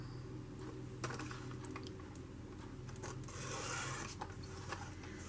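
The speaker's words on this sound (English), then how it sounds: "So I'm going to trim this a little more." Scissors or a trimmer cutting paper material for a garden journal page, close scraping and rubbing with a few sharp snips, alone without talk.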